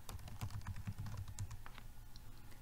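Quick clicks of typing on a computer keyboard to add text in ActivInspire, an irregular patter of keystrokes at close range, soft and steady with no talking.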